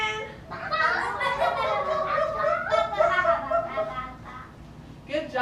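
Young children in a classroom farm-animal lesson imitate chicken clucking, producing a choppy, overlapping burst of voiced calls mixed with giggles for several seconds.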